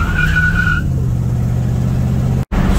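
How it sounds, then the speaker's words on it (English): A 1951 Ford shoebox truck spinning a tire: loud continuous tire squeal and engine roar, a high whine at first, then a steady sustained rumble that cuts out briefly near the end. "No crazy horsepower, but she will spin a tire."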